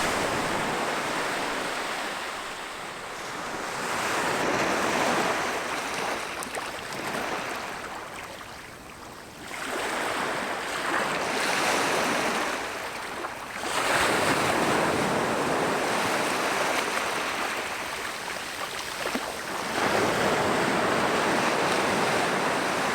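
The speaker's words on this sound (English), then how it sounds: "enjoy listening to and watching the waves crash on the beach" Waves crash repeatedly onto a beach, with loud surges of surf rising and falling every few seconds amid steady wind noise on the microphone.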